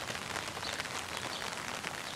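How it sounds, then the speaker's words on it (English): Heavy rain falls outdoors on a wet May day in Boston, a continuous soft hiss of drops spread evenly and heard alone. "it is a very, very rainy May 1st"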